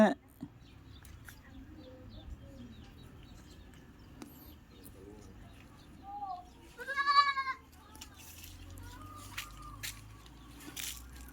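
Goats on a rural Philippine province farm give a short wavering bleat in the middle, faint and somewhat distant, over quiet background with scattered small sounds.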